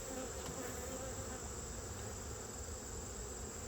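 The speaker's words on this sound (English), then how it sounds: "I bumped the bee with the smoker." Honeybees buzz steadily around an opened hive being worked with a smoker outdoors, a dense continuous drone with no breaks and no voices.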